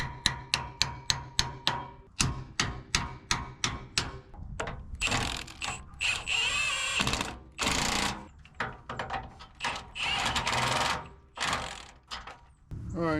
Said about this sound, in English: tapping the shackles back in.